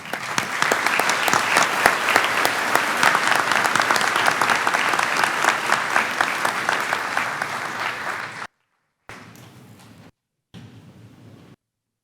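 Applause at a spring 2018 arts and sciences commencement ceremony for a community college, a dense, loud crowd clapping for about eight seconds before it cuts out, then two brief fragments of clapping separated by silence.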